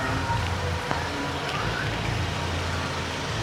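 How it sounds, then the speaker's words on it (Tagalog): Heavy rain pours steadily around a car as a dense, even hiss, with a low rumble of road traffic underneath and a couple of faint tapping drops. "Malakas pa rin ang ulan."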